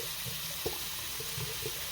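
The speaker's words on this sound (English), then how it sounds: "We just got to test the hot water to see if it works again." Hot water running steadily from a tap just after a clogged filter was cleaned, a soft continuous rushing stream with a few faint knocks and clinks in the background.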